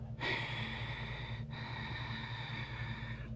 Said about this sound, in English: the sound should come like that. That is called the Ujjayi breath, the victorious breath.